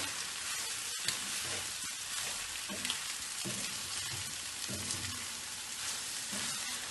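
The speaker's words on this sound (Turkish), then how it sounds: "Güzelce kavuracağım. Pirincini kavurmak çok önemli." Rice sautéing in oil in a pot for Turkish iç pilav with allspice, a steady close sizzle and crackle with a few stirring scrapes throughout.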